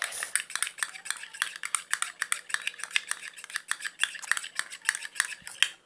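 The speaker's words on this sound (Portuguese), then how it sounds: "Mexer, mexer, mexer. Vamos mexer. Trate-se de mexer bastante." Homemade slime made from glue, conditioner and boric acid water being stirred with a utensil in a bowl, giving a steady run of quick, close clicking and squelching scrapes with no talk.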